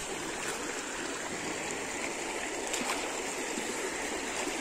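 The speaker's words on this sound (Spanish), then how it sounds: "Es bonito pasar sobre el agua" Stream water rushes and burbles steadily as someone wades across it, a close, continuous broadband flow with no talking.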